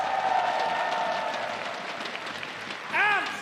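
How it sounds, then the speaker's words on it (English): Loud audience applause and cheering for cosplayers at an ESL One Kuala Lumpur 2023 esports playoff event fills the hall, a dense steady roar of clapping with a brief whistle near the end. "One more round of applause for our incredible cosplayers."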